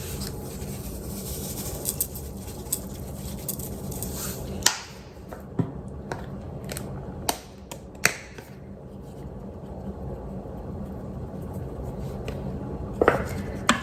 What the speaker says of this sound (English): Again, give it a stir.